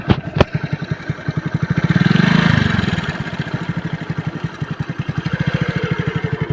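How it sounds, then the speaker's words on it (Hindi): A Hero Splendor motorcycle rides past, its single-cylinder engine thumping in a steady rapid pulse that swells louder at mid-pass and then settles into a constant putter, heard alone. "चलो तो मोटरसाइकिल चलाओ।"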